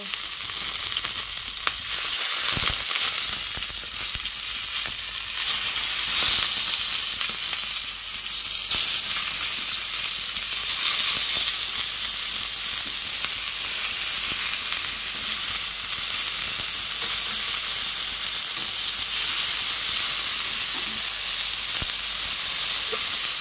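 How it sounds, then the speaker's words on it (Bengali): Food sizzles hard in hot mustard oil in a pan, a dense, unbroken frying hiss that stays loud and steady throughout with no talking. "আমি এগুলো এখন দিয়ে দেব ভাজার জন্য।"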